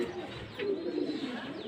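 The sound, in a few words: pigeons cooing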